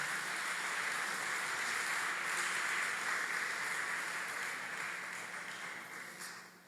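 A church congregation applauding together at a Sunday service, a dense steady wash of clapping that holds for several seconds and then gradually fades.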